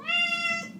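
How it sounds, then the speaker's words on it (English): A house cat that has just noticed its owner is home gives one clear, fairly close meow lasting under a second, with nothing else heard. "So apology in advance for the meowing you're probably going to hear because she just realized I got home."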